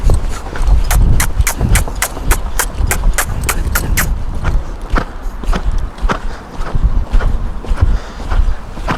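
Rapid, regular hoofbeats from a young filly cantering in a circle on an arena, close and loud, with a steady rhythmic drumming and faint wind-like background.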